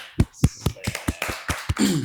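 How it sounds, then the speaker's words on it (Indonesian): A few people clap in a small, close group at a casual podcast chat, giving about eight sharp, separate claps in a loose rhythm before a voice begins at the end. "Tepuk tangan dulu dong buat Boleh."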